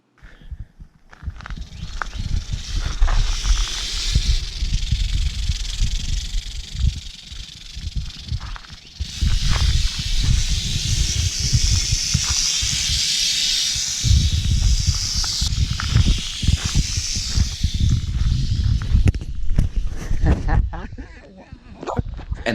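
A rattlesnake's dry buzzing rattle comes in long sustained bursts, close and fairly loud, pausing briefly between runs, with a person talking quietly underneath.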